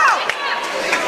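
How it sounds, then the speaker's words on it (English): A crowd of Portland wrestlers shouts and cheers for a teammate during a women's wrestling match, a brief burst of overlapping voices with a commentator talking over it. "the Portland wrestlers are cheering on Anunthia"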